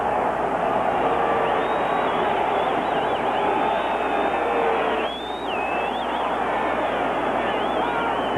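A packed football stadium crowd at a 1985 Raiders at Kansas City Chiefs game roars in a steady, dense wash of noise with faint whistles rising above it and muffled commentary underneath.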